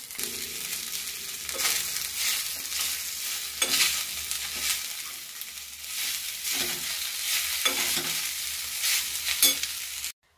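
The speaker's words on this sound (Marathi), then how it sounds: "अंदाजे सेंधा नमक टाकायचं आहे आणि नंतर मिक्स करायचा साबुदाणा" Sago khichdi with rock salt stirred in a pan, a steady close scraping and soft sizzle running throughout with rhythmic spoon strokes, no talking.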